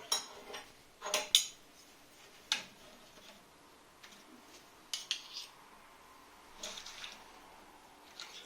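A spoon spreading about a tablespoon of fresh cheese onto flattened naan dough makes soft, sparse scraping taps and clicks, close and fairly quiet, with long gaps between strokes.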